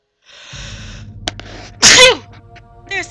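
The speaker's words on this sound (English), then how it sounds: "There's the sneeze." A single loud human sneeze, close and abrupt, standing out over a faint humming background and preceded by a short sharp click.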